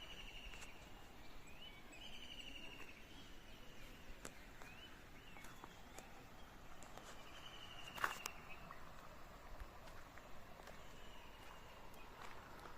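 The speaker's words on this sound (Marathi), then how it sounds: "वेगवेगळ्या पक्ष्यांचे असे सुंदर असे आवाज ऐकायला येतात" Faint, scattered bird calls and chirps from several directions outdoors in a Konkan village after rain, quiet and distant, with a soft click partway through.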